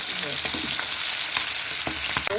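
Tengra fish fry in hot oil with a loud, close crackle and sizzle, sharp pops bursting at irregular intervals over a constant frying hiss.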